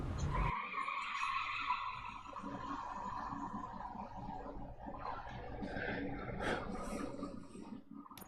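A car accelerating and skidding in the video game Robocop: Rogue City, with a sustained engine roar and long tire squeal running steadily for several seconds, loud and continuous.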